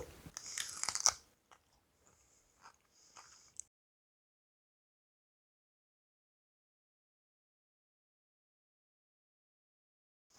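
Biting into a Bloody Mary jello shot with celery: a loud, close crisp crunch followed by a few quieter chewing crunches over several seconds, then silence.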